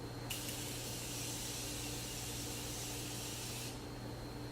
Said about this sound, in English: now I'm going to set my face using the Morphe spray